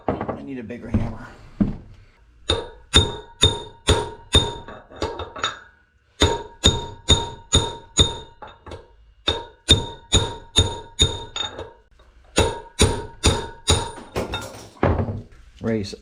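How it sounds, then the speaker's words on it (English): Repeated sharp metallic hammer strikes driving a bearing race out of a 1976 Harley-Davidson FLH rear wheel, in quick bursts of several blows, loud and close, with short pauses between volleys. "I need a bigger hammer."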